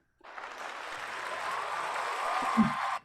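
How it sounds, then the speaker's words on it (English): A canned applause sound effect triggered from a handheld button box plays as a sudden burst of steady, dense clapping that holds evenly for about three seconds, then cuts off abruptly. "I can have my own applause."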